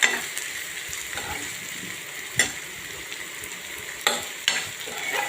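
Thinly sliced cabbage and mixed vegetables sautéing in a pan over low heat: a steady close sizzle with stirring scrapes and a few sharp clicks of a utensil against the pan.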